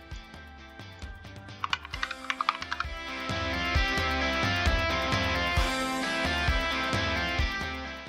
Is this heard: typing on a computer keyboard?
yes